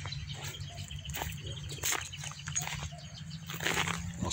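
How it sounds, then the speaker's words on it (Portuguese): Birds flap and chirp faintly beside the Betim River in a dry grassy area recently burned, with scattered calls and wing flutters over a low steady outdoor background. "Olha os pássaros, que bacana."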